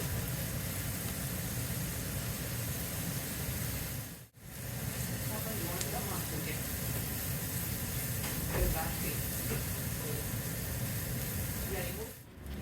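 Chopped onion, green chili, ginger, garlic and curry leaves sautéing in a pan, a steady broad hiss of frying running throughout with two brief dropouts and faint scattered clicks.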